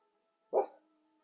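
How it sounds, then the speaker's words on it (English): A single sharp bark from a dog close by, short and loud, cutting through quiet background hum. "Stop barking."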